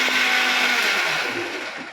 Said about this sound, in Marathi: मी बोलते तर ती मिक्सर लावते